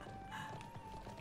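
Horse hooves clip-clop in the video game Conqueror's Blade, a faint rapid patter of steps under a steady game hum, quiet and distant.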